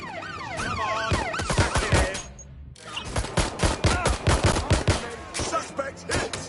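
Bursts of rapid gunfire in the Watch Dogs Legion video game, loud and dense, mixed with a wailing siren and game voice lines, with a brief drop-out midway before the shooting resumes.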